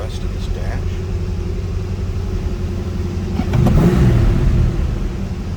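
A 1982 Chevrolet Corvette Collectors Edition engine idles with a low, steady rumble, then briefly revs louder before settling back, heard close up.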